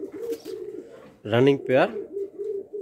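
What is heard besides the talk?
pair of black Lakkha fancy pigeons cooing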